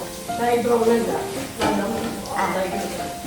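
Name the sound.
onions frying in oil with cashews and raisins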